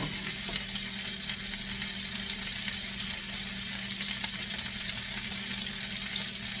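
Rib eye steaks sizzle in a pan, a loud, dense, continuous frying hiss with small crackles, steady throughout and close up with no voices.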